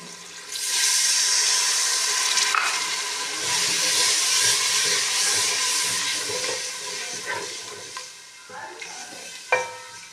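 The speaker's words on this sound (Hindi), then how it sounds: "इसमें डालेंगे थोड़ा सा पानी" Water poured into a pan of cooking potato and mogra curry, a steady hissing sizzle and bubbling that runs almost continuously at close range, with a few stirring knocks and a sharp clink near the end.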